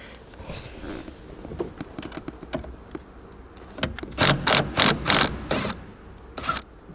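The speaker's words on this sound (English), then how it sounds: "I'm not going to take it completely out, just going to loosen it." A ratchet loosening a bolt in the tight engine bay of a high-mileage Lexus under restoration, light metallic clicks and fiddling at first, then several loud bursts of rapid ratcheting close by.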